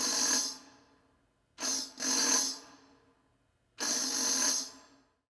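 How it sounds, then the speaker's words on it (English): A finger rubbed across a beeswax-coated tambourine head makes three raspy, buzzing drags with bright jingle shimmer. The first trails off, the second breaks briefly in the middle, and a longer third follows. The sound is close and alone. "run our finger over the head, and that sounds like this."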